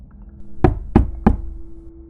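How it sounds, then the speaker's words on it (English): Three sharp knocks on a door in a London hotel room, evenly spaced and fairly close, with a quiet steady hum underneath and no voices. "While I was showering, I heard someone knock on a door once."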